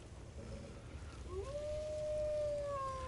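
A wolf in the video game Skyrim lets out a long, rising then level howl that holds steadily for over a second before a second tone enters, sounding moderately close over a low rumbling game ambience.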